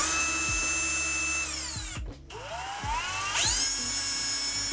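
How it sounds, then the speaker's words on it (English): A high-pitched power drill whines steadily, drilling a small hole in a closet wall, spinning up and down in pitch with a brief pause midway, close and loud with no talking. "I'm just gonna drill a little hole to make my mark."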